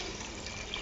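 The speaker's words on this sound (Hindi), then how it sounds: "अब हम इसके अंदर 5 कप यखनी डाल देंगे जिसमें हमने गोश्त कुक किया था।" Beef stock (yakhni) poured into a cooking pot while making beef white pulao, a brief, steady liquid splash heard up close with no voices.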